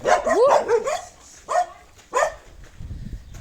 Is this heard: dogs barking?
yes